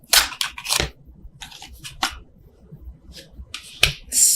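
Tarot cards shuffled overhand by hand for a love reading, giving a series of sharp, irregular riffling snaps and soft slaps close by, with short quiet gaps between bursts.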